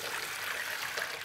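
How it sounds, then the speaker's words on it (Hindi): A jug of water is poured over a Moto G54 5G phone during a water test, giving a brief, steady splashing trickle close by with no talk. "मैं 1 जग पानी अभी और डाल देता हूँ इसके अंदर"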